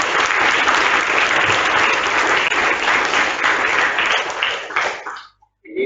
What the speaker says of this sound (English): Give them the big round of applause.